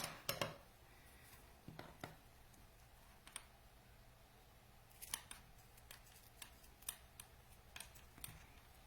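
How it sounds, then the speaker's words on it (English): Scissors snip off the ends of a paracord craft project in a run of sharp, close clicks and cuts, scattered irregularly with quiet pauses between. "So tighten it up and cut off these ends."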